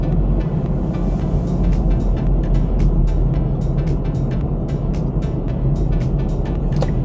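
Car driving on the Regitra driving-test route in Klaipėda, a steady loud rumble of engine and road noise from inside the car, with a rapid regular ticking running throughout.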